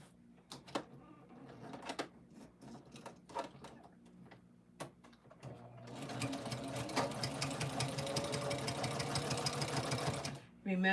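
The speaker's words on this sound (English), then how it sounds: "I can start sewing a 1/4 inch on this side" A sewing machine stitches a quarter-inch seam on a quilt binding, preceded by scattered clicks and fabric handling, then a steady, close run of needle chatter for several seconds that halts just before the end.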